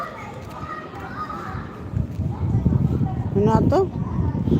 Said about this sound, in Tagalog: Ingay ng mga bata.